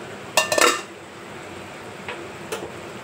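A metal lid comes off a pan of cooking fish with a short rattling clatter, followed by a few faint light clicks over a low kitchen hum.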